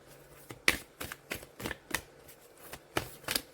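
Tarot cards are shuffled vertically during a pick-a-card reading, producing a series of crisp, rhythmic slaps and flicks, roughly a dozen taps spaced a beat apart, close and fairly quiet.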